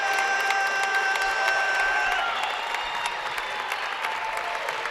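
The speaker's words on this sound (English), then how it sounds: "Prairie Heights fans behind us on their feet cheering on their team." Basketball fans on their feet cheering at a high school boys' game against Prairie Heights, a steady loud crowd roar with clapping and shouts, while a faint electronic tone sustains in the background.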